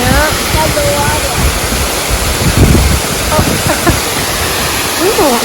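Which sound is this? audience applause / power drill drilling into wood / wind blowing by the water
wind blowing by the water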